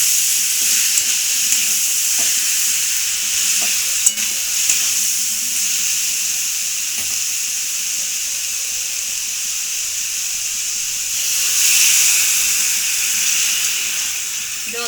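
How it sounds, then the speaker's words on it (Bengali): A banana flower dish sizzling and frying steadily in a pan, with a surge of hissing steam when a little water is added near the end, plus faint stirring clicks. "এবার এতে অল্প পরিমাণে একটু জল দেবো।"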